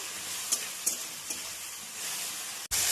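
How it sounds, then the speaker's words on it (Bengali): Tomatoes fry in a pan while making pigeon pea dal, a quiet steady sizzle with a few brief stirring scrapes, ending in a sudden cut. "টমেটোটা ভালো করে ফ্রাই করে নিয়ে"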